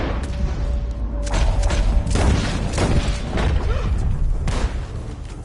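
Several loud gunshot booms from a barn in the video game Red Dead Redemption 2 ring out in quick succession over a low rumbling background, with a brief tone early on.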